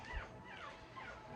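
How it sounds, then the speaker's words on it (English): Faint, thin whimpering cries from small puppies, high wavering squeals repeating softly in a quiet room. "you hear the little puppies cry"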